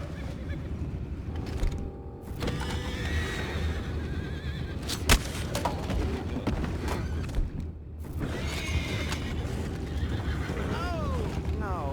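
Horses neigh and whinny with scattered hoof clops in a Red Dead Redemption 2 scene, the whinnies rising clearly over a steady bed of ambient noise and people talking.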